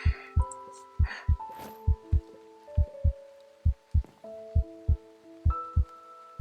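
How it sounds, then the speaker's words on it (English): Heartbeat pulsing in the ears in the survival game Days Of Infection: about a dozen heavy, close, thumping beats in a steady, slightly quick double rhythm, with a low tonal drone and scattered game sounds around them. "Hear my own heartbeat in my ears."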